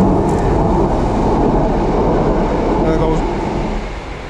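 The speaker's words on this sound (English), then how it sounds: "There goes a train." A train rumbles past loudly and steadily, a continuous roar of rolling wheels that begins to fade away at the end.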